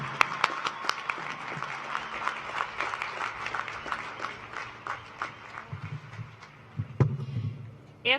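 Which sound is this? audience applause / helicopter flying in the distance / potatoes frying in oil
audience applause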